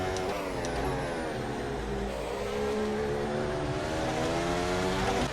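A Formula 1 car engine in a racing video game screams at high revs, with rising and falling gear-change tones and a sustained loud whine throughout, no voices present.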